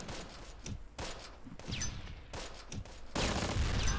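Repeated gunfire from a Close Combat Panthers in the Fog battle between PanzerGrenadiers and GIs: several sharp single shots and short bursts scattered across the moment, with a loud dense volley near the end.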